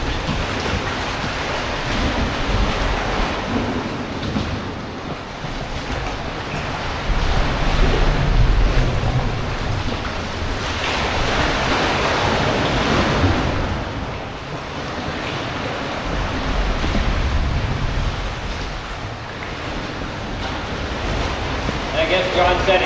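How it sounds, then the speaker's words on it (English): Waves surge and crash inside a sea cave on Santa Cruz Island, producing deep booming rumbles that swell and fade in slow cycles, loud and enveloping. "you'll hear the big boom at the back. It's from another cave."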